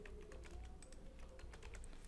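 A computer keyboard is typed on in a steady run of light, quick clicks over a low background hum, with no voices.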